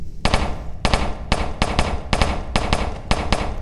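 Blue pistol in the Melon Playground video game fires a rapid series of about ten sharp, loud shots in uneven bursts, close and alone without any voice.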